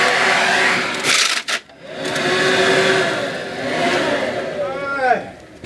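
A Ryobi leaf blower runs loudly and steadily, whirring with shifts in pitch as it revs. Voices talk over it throughout.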